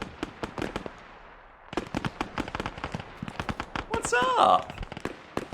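Gunfire in the Arma 3 video game rattles in rapid bursts of sharp cracks, loud and close, with a brief break before firing resumes, while someone speaks briefly over it.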